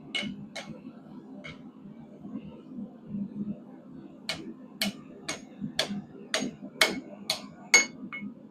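Hot steel is hammered straight while forging a backscratcher: a few scattered sharp blows, a short pause, then a steady run of about eight ringing strikes over a low background hum.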